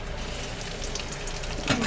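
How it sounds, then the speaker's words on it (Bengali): Fish roe fritters fry in a generous amount of hot oil, a steady close sizzle with a sharper crackling burst near the end as more batter hits the oil. "এই তেলের মধ্যে আমি এবার বড়াগুলো ছাড়বো।"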